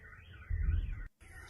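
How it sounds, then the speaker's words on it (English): A car alarm blares in a Russian city where a fire has broken out, a loud, steady warbling electronic tone that cuts out briefly near the end before resuming. "the car alarm is going to be the new national bird call of Russia"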